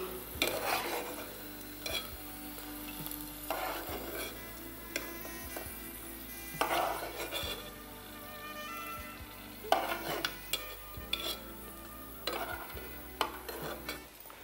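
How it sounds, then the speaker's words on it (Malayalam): Quiet sizzle of cashews and raisins frying in ghee, punctuated by repeated bursts of a spoon stirring and scraping the pan. "അണ്ടിപ്പരിപ്പ് മുന്തിരിങ്ങ വറുത്ത് വെച്ചു"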